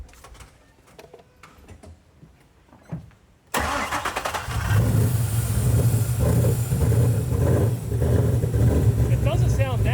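A Ford Mustang with a vacuum leak cranks and catches after a stretch of quiet handling noises, then settles into a loud, steady running idle with a rough low rumble.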